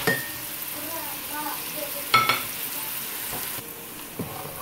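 Chopped onion frying slowly in a pan until golden for Dominican moro de guandules, a soft steady sizzle with a brief clatter of a utensil against the pan partway through.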